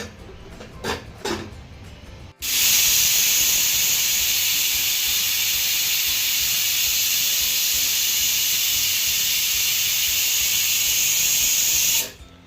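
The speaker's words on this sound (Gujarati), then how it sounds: "અહીં કુકરની વિસલ થવા લાગી છે" A pressure cooker boiling desi chickpeas lets out a loud, continuous steam whistle, a sharp high hiss lasting nearly ten seconds at close range, preceded by a few soft knocks and rattles.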